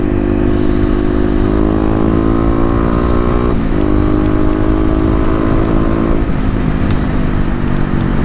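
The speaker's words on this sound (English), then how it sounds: "So the Mega Bomb gave the Q4 a little bit of a kind of a deeper sound." Kawasaki KLX250 motorcycle fitted with Mega Bomb header and Q4 exhaust, loud and close, revving up through gears with rising pitch, dropping and climbing again, a deep raspy engine note throughout.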